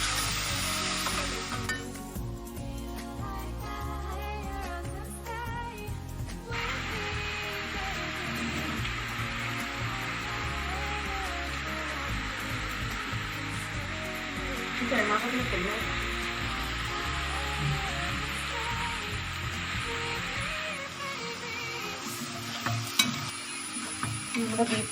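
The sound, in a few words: beef dry fry frying and being stirred in a pan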